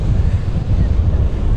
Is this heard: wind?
yes